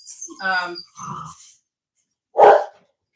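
A Cane Corso barks and growls in a few short bursts, close and fairly loud, with quiet gaps between them and no talking.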